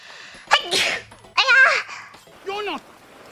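A woman sneezes during a VTuber stream, a quick gasp followed by a loud, sharp sneeze, then a short spoken apology.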